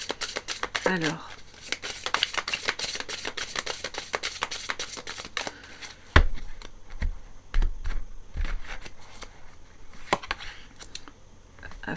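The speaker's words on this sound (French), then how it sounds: "vous avez vu j'ai battu les cartes" Tarot cards are shuffled by hand in a rapid series of crisp riffles and slaps, close and fairly loud, with a few louder card snaps partway through; one short spoken word is heard at the start.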